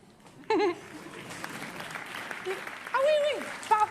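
A comedy show audience claps in a steady, moderate patter of applause, heard under loud voices of performers speaking over it.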